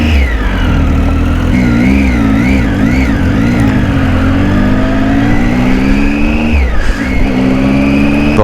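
A Triumph Tiger 800 motorcycle on a test ride near Chanshal Pass gives a loud, close engine note that rises and falls with repeated revving and throttle changes throughout.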